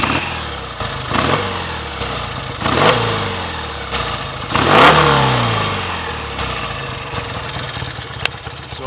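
BSA A65 classic motorcycle ridden on a road after a clutch slip and misfire fix, its engine revving up and easing off repeatedly through several gear changes, loud and close with wind noise.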